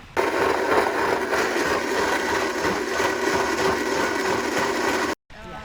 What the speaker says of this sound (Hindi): तो चले अब उसे ब्लेंडर में डालकर पानी मिलाकर बादाम का दूध बनाएं।